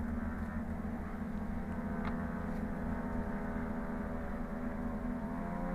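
Twin-engine airplane run up to full power with brakes held during a maintenance test flight after fuel injector work on the right engine, a steady, loud, continuous drone throughout.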